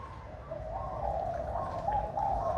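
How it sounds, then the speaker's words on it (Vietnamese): A spotted dove cooing in a rhythmic series of soft, mellow calls, close but fairly quiet, with faint low background noise underneath. "Cái dòng chim cu cườm này nó gáy rất là hay luôn đó, các bạn nghe nó gáy y xèo luôn nè, theo nhịp độ luôn."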